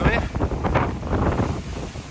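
Strong gusting wind buffets the microphone on a cliffside mountain trail at Sainte-Victoire, loud rumbling surges rising and falling with no speech.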